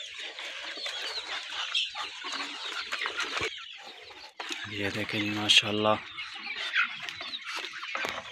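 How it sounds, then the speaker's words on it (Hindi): Golden Misri chicken chicks cluck and call amid farmyard bustle, with a person speaking briefly over them and a loud burst of calling midway. "ये जी हमारे गोल्डन मुर्गी के बच्चे, गोल्डन मुर्गी ये बहुत ही अच्छी नस्ल के हैं।"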